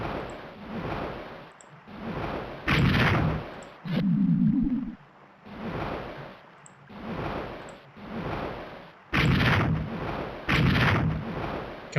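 Cannon fire at red ships in a PopCap flash video game, a run of repeated booming shots in uneven bursts, each with a rough noisy tail, heard alone without talk.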